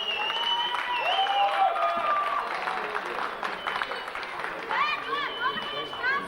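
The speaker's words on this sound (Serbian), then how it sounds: "Ajmo, aplauz, aplauz." Steady clapping from an audience at an award ceremony in a Sombor atrium, a dense moderate wash of applause with voices and chatter running over it throughout.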